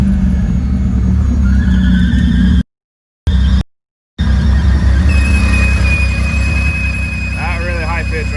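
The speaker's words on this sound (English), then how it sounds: "Very, very strange high-pitched squealing noise that does not vary with RPM." A thin, steady high-pitched squeal that does not vary with RPM rings over the low idling rumble of a Toyota 3.4-litre 5VZ-FE engine, with a brief dropout in the middle.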